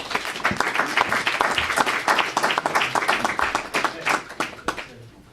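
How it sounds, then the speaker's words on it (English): An audience at a school board of education meeting breaks into sustained applause, with dense overlapping hand claps that stay steady for several seconds before thinning out at the end. "let's give them a round of applause"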